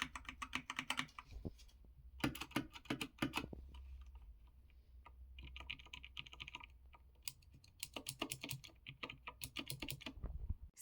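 Clicky keyboard typing with new switches, a steady run of sharp keystrokes in bursts with brief pauses, close and fairly loud, with a few heavier space bar presses mixed in and no voices.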